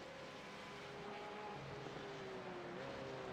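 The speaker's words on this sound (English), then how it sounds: "That car doesn't sound as healthy as it should be. Is he out of fuel?" Racing car in the iRacing video game at the Nurburgring endurance event, its engine sputtering and down on power as it runs out of fuel, a steady continuous drone with wavering pitch and no talk over it.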